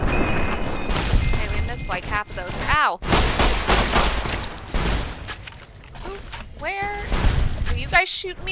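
Gunfire in Fallout: New Vegas: bursts of shots crack through the clip, with a sharp break near three seconds and a heavy burst near eight, over steady talk.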